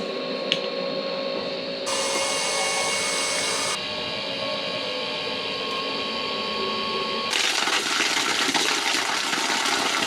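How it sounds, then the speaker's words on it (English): Boat bilge pump pumping water out of a potable water tank during a refit, a steady loud mechanical whir and splashing flow that runs continuously, shifting pitch and intensity partway through, with no voices. "I start up my bilge pump and get rid of the water"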